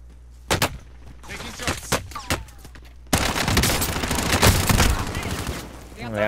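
Rapid gunfire from the Call of Duty: Modern Warfare video game: scattered single shots at first, then a sustained loud burst of automatic fire with talk mixed in.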